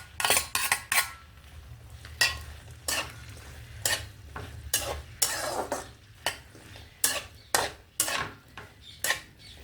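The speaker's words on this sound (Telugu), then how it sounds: "పచ్చిమిరపకాయ ముక్కలు, ఉల్లిపాయ ముక్కలు వేసుకుందామండి." Okra, onion and green chilli pieces tumble into a pan for okra pulusu and are stirred, giving a string of sharp spoon-and-pan clatters and scrapes at an uneven rhythm over a low background hum, with no talk.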